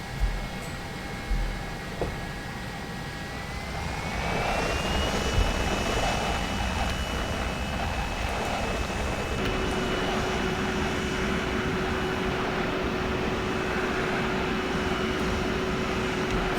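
Airbus A319 jet engines starting in a flight simulator, a rising whine that climbs in pitch and settles into a steady high tone, with a low hum and a constant roar underneath.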